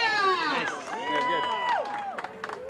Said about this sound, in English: Let's give them a Big Texan yeehaw!